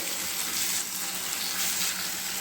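Washed rice frying in a pan gives a steady, close, even hiss that holds without pause for a couple of seconds, with no talking.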